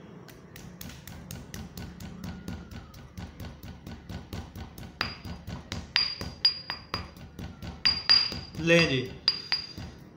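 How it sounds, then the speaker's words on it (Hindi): Walnut kernels pounded in a mortar and pestle, with a steady run of sharp, close, clinking taps that grow louder and more irregular toward the end, and a brief spoken remark. "मैं आपको पीस के भी दिखाता हूँ।"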